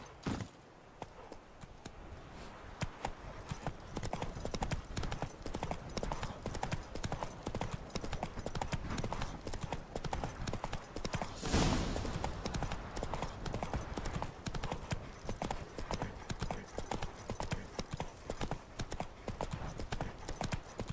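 Horses gallop in a race in The Witcher 3, hooves pounding in a fast, continuous clip-clop rhythm that stays loud and close throughout, with a brief louder rush midway.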